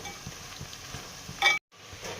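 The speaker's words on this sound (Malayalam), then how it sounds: "ഇനി ഈ കായ ഈ വെളിച്ചെണ്ണയ്ക്കകത്ത് കിടന്ന് നല്ലപോലെ തിളച്ച് മൂക്കണം. ഇടയ്ക്കൊന്ന് ഇളക്കിയിട്ട് കൊടുക്കണം," Plantain pieces for sharkkara varatti fry in coconut oil with a steady, close sizzle, stirred now and then with soft scraping knocks, then a brief sharp clatter and a momentary cutout before the frying resumes.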